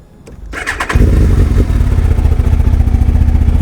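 A Japanese motorcycle engine starts after a brief starter whir, catching within a second and settling into a loud, steady, close idle with a rhythmic mechanical beat.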